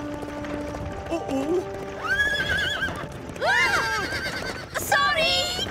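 A horse whinnies several times amid clip-clopping hooves, with people talking in the background and a rising, wavering neigh near the end.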